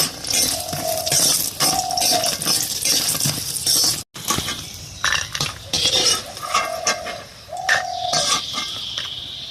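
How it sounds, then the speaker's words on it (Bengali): Bori, small lentil dumplings, fry in oil in a large kadai, a bright continuous sizzle broken by metal utensil clinks and stirring scrapes against the pan, close and fairly loud. "এখন বড়িটা একটু ভেজে নেই"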